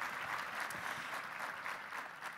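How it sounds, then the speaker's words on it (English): Summit audience giving keynote speakers more applause, a brief, even wash of clapping from a crowd, heard faintly at low volume. "Let's give them some more applause."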